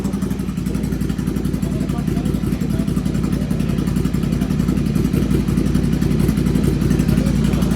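A BMW S1000XR or Ducati Scrambler 800 motorcycle idles nearby with a loud, even, rapidly pulsing exhaust rumble that stays steady throughout.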